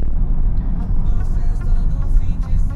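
A 2024 Subaru WRX ts Wagon pulls away under full throttle from a standstill without launch control, a loud steady engine roar with heavy low rumble heard from inside the cabin.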